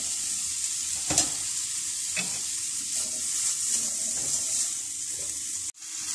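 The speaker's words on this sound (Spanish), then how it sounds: "vamos a sofreír la tocineta" Chopped bacon sautéing in a pan, a loud continuous sizzle up close, broken by a few scraping stirs and a sharp knock near the end.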